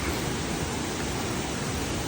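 A small waterfall by a cave near Thakhek, Laos, gives a steady, dense rush of falling water heard up close, loud and unbroken, with no voices.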